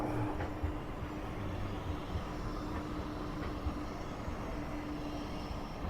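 A steady low rumble of a tram rolling past, continuous and fairly distant, with a faint hum throughout and no voices.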